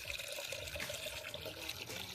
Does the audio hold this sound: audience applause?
no